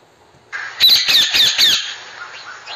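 A parakeet gives four sharp, shrill squawks in quick succession, close and clear against a quiet background.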